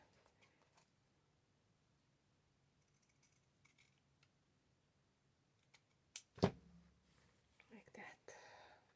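A few quiet snips of scissors cutting fabric hinge material for a handmade book spine, close and sparse, with one sharp louder clack and soft rustling among faint speech.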